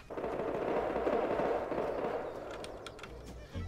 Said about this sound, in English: It's a lot of gunshots.